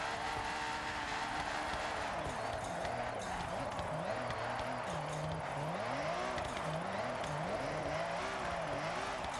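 A high-horsepower drift car in the video game Forza Horizon, held in third gear, gives a quiet, continuous engine note whose revs swing up and down in repeated waves as it slides.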